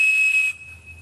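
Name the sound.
Captain Crunch toy whistle blowing a 2600 Hz tone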